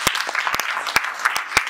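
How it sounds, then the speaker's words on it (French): A church congregation claps loudly for God, a burst of dense, rhythmic applause with sharp individual claps standing out close by. "Acclame très très fort pour ton Dieu."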